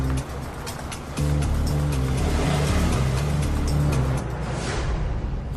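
A car engine revving up and pulling away to follow someone, a steady loud rumbling drone with shifting pitch as it accelerates, close and without talk.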